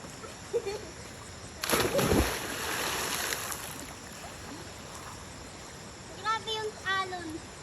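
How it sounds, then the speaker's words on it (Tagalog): Waves splash at night while people swim in Tanay, with a burst of sloshing water midway and voices talking and calling out nearby, brief shouts near the end. "Grabe yung alon."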